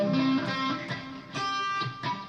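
An electric guitar plays a slow sweep-picked arpeggio, single notes rolling across the strings in a few distinct strums, fairly close and moderately loud with no talking.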